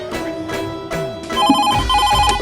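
A telephone rings in a home, its electronic ringtone repeating in clear, loud pulses with a melodic pattern and a few background knocks.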